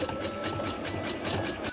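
A sewing machine stitches rapidly during free motion quilting, a steady close mechanical whir with fast rhythmic needle chatter throughout, ending in a brief click.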